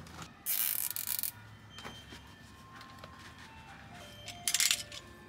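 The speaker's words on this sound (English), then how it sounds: "Ice cream truck has arrived." Ice cream truck jingle rings out in two bright, loud bursts, one early and one near the end, with quieter mechanical clicks and workshop sounds in between.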